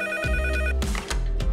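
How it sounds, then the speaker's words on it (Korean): A telephone rings during a live auction, a close, loud electronic ringtone trilling in repeated bursts with brief pauses, heard alone. "전화 잘 울리고 있나요?"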